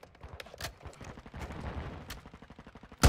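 Bursts of gunfire from a Call of Duty Modern Warfare II multiplayer match crackle amid game effects and radio chatter, ending in one loud close shot or impact.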